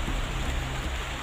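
Rain falls in a steady, soft hiss that stays even and unbroken for a brief moment outdoors, with no voices over it.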